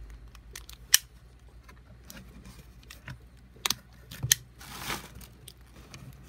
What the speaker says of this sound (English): I'm going to get the plastic open